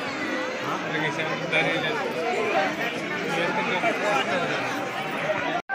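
A dense crowd of pilgrims waiting at the closed gate of the Tirumala Tirupati Venkateshwara temple, a continuous loud babble of many overlapping voices close around, steady throughout before a sudden brief cut at the end.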